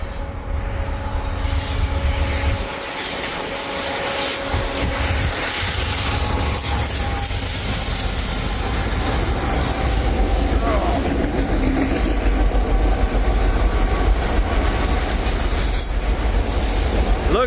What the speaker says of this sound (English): we got Norfolk Southern 196 coming up the line, led by a Heritage unit